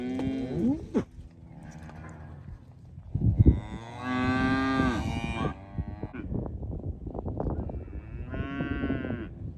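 Cattle moo repeatedly, cows and calves calling in several long, loud, drawn-out bellows with short gaps between them, close by and without talk.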